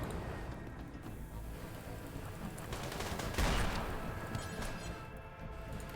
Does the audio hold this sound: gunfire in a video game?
yes